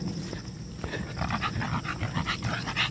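A pet dog, an exotic bully, pants rapidly and steadily up close, with breathy rhythmic huffs filling the whole stretch on an outdoor trail.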